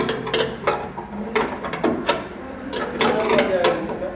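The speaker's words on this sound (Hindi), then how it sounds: "तेरह नंबर का रिंच से जो है इसको कसना है, अच्छी तरह से इसको हम लोग टाइट कर लेंगे।" A wrench clanks and ratchets while bolts are tightened on a 10HP flour mill pulverizer under installation, giving irregular metallic clicks and knocks close by, with someone talking over them.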